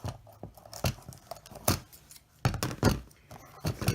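Scissors snipping through strips of duct tape, a run of short crisp cuts at an uneven rhythm, close and fairly quiet.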